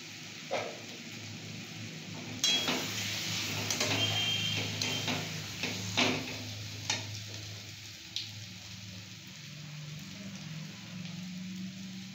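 Spicy potato curry (alur dom) is stirred in ghee in a pan, with a soft continuous sizzle broken by a scattering of spoon knocks and scrapes, close by.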